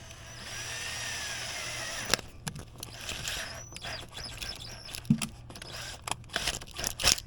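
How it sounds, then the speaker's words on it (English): Short bursts of a small power drill boring a hole into a car body to fit a toggle switch, faint whirring in brief runs interrupted by clicks and handling knocks, nearby and without talk. "now we're just going to drill a hole and attach the switch."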